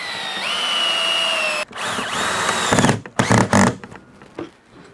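Cordless power drill driving long thin screws into the seat of an old wooden church chair during restoration, motor whirring in several close, loud bursts that rise and stop, with brief pauses between runs.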